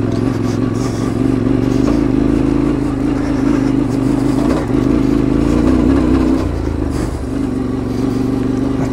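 A motorcycle engine roars continuously at high revs on a slippery ride, with the pitch wavering and dipping briefly near the end, loud and close.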